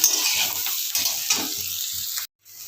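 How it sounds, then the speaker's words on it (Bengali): Capsicum, potato and onion frying in a pan, a steady close sizzle with soft stirring scrapes, cutting out briefly near the end before resuming. "এই দেখো ক্যাপসিকাম আলু পেঁয়াজ আমার ভাজা প্রায় হয়ে এসছে"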